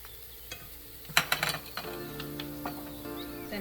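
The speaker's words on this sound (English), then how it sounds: "The onion is looking good, so I'm gonna add my garlic." Garlic added to onion sauteing in a pan for Jamaican beef patties: a cluster of sharp clinks and stirring scrapes, then a steady, fairly quiet sizzle that carries on underneath.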